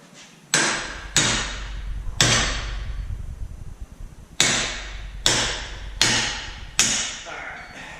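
A copper mallet strikes a large spanner seven times, sharp metallic blows landing about a second apart with short ringing decay, close and loud, with a steady low hum underneath.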